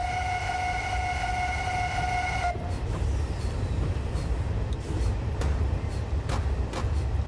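A Ffestiniog and Welsh Highland narrow gauge railway train heard from beside the line: a brief steady whistle-like tone at the start, then a continuous loud low rumble of the passing train with intermittent clanks, no talk.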